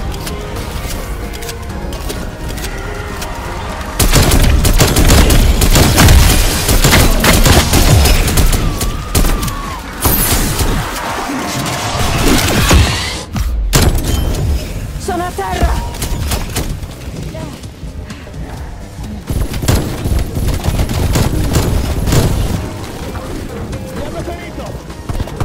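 A portable cannon fires in a video game, loud repeated blasts within a dense roar of heavy gunfire and explosions, with brief game voice lines over the din.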